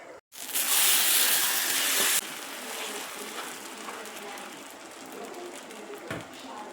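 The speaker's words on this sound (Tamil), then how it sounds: "இப்போ நான் வந்து இதை அந்த அடுப்புக்கு மாற்றிட்டு இந்த அடுப்பில் வச்சு கோதுமை மாவு தோசை ஊற்ற போகிறேன்" Wheat flour dosa batter poured onto a hot pan on a home stove sizzles with a loud hiss that quickly settles into a steady, softer crackle and sputter, with no voice.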